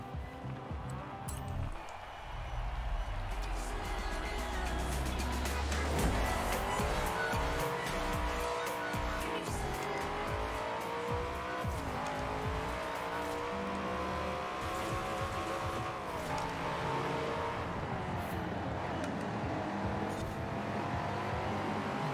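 A Corvette in Forza Horizon 4 roars through repeated gear changes, its engine note climbing and falling under hard acceleration, with tire squeal through the corners, loud and continuous throughout.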